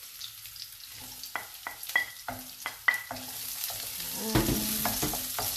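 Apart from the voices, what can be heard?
onion added to ginger and garlic, frying in pan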